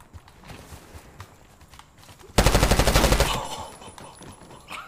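Rapid burst of automatic gunfire from a video game, a loud rattling volley of about a dozen shots lasting roughly a second after a quieter stretch of muffled in-game sounds.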